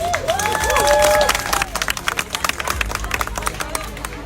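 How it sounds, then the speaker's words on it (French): Audience applause: a steady patter of many hands clapping throughout, with crowd murmur and some voices mixed in, moderately loud and sustained. "s'il vous plaît, un gros applaudissement pour la maman d'Ariana."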